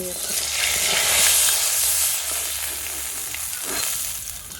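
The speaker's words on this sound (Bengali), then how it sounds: "এগুলোই মাছ ভাজা হয়ে গেছে আমাদের" Fish pieces frying in hot oil in a home kitchen, a steady close sizzle that swells and eases without pause.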